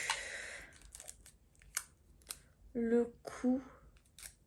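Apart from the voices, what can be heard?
adhesive tape being torn and cut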